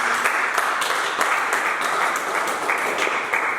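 A church congregation applauds with dense, steady clapping that stays fairly even throughout and sounds moderately distant.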